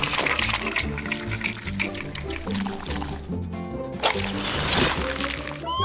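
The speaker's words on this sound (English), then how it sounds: "Now I'll pour in the rind layer." A thick watermelon-rind liquid pours and sloshes continuously into a LEGO ice cream machine for several seconds, with dripping and squishy wet sounds over steady background music.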